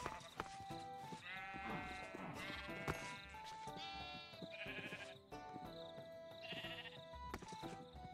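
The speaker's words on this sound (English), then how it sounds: "I gotta go feed the sheep" Sheep bleat repeatedly in the Medieval Craft video game, several overlapping wavering calls over a quiet, steady background, fairly close.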